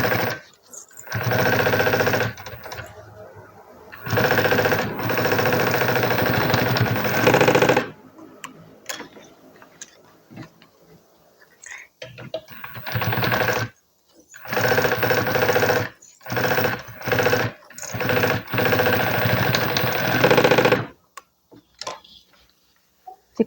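A sewing machine runs a stitch along the edge of a handmade bag in several loud, rapid bursts of mechanical chatter, separated by short pauses and quiet handling noises, close up with no speech.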